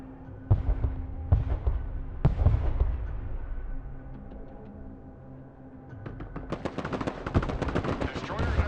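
Gunfire and mortar blasts in the video game Broken Arrow: several sharp, loud reports spaced apart early on, then a dense run of rapid shots crackling close by over a rumbling battle backdrop.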